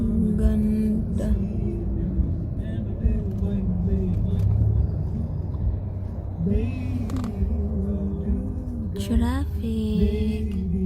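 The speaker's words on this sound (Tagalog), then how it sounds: "Traffic." Road traffic on a Philippine street, with a continuous rumble of passing cars and buses, engine drone and occasional brake squeals, under faint background voices and singing.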